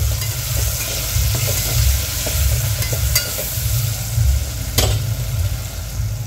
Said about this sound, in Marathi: आता हा टोमॅटो सुद्धा छान मऊ होतपर्यंत याला